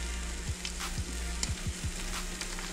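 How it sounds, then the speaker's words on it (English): Eggs with broken-up cheese sizzle steadily in a pan, with a few soft scrapes and stirs from a utensil every half second or so, close and moderately loud with no talking. "this is how Breon cooks his eggs"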